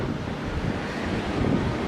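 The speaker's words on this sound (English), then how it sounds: "The waves crashing." Ocean waves crash and wash ashore on the coast at Cabo, a continuous, loud, broadband roar of surf mixed with gusting wind buffeting the microphone.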